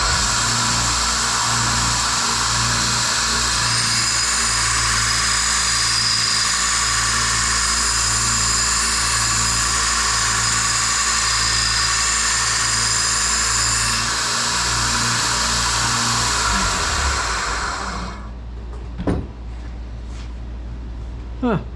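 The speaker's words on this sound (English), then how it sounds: "We're gonna start out with a 24 grit belt on here" Belt grinder fitted with a worn 24 grit belt grinding the metal of a fire axe: a loud, sustained, droning grind at close range, running for about seventeen seconds before the motor winds down, followed by a few faint knocks.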